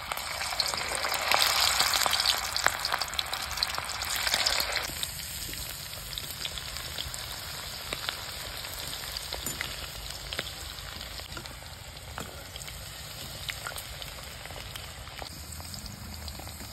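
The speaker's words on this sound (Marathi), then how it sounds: "तेल तापलेले, याच्यामध्ये आपण एक एक सोडून घेऊया, डीप फ्राय करून." Prawn starters deep frying in hot oil make a dense, loud bubbling sizzle that is strongest in the first seconds as pieces are dropped in, then settles into a steady crackle with small pops, no talking.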